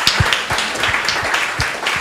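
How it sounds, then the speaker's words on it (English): Audience at a social media panel event applauding the panelists, a crowd of scattered, brisk hand claps heard up close with no talking over them. "can we just give a very big round of applause for our panelists tonight?"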